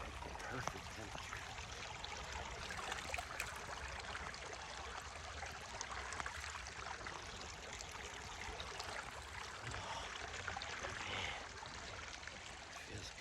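A small wilderness river in Zion National Park flows in a steady, soft rush and trickle that holds an even level throughout, without any clear voices.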